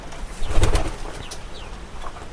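Native pigeons with two chicks rustle close by, with a burst of wing flapping and faint soft coos over a quiet background.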